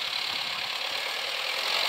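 A tractor engine runs steadily while clearing snow in a wintry setting near Moscow, a constant mid-distance knocking drone with no voices.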